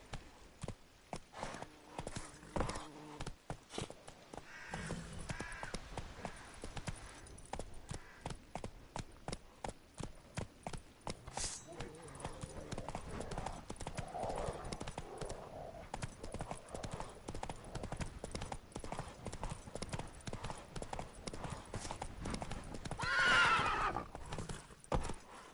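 Galloping hooves of the horse Roach in The Witcher 3, a steady rapid clip-clop running nearly throughout at close range, with occasional whinnies and a loud snort near the end.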